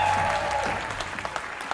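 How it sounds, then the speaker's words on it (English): Audience applause for contestants at an Insanity bootcamp fitness session, a short burst of crowd clapping that starts loud and fades over under two seconds. "Give them a big round of applause,"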